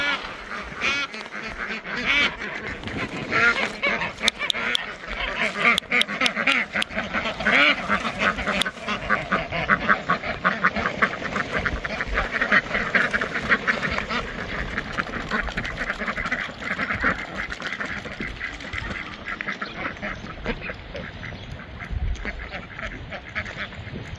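Many ducks quack loudly and continuously close by, a busy overlapping chorus of honking calls with no pauses.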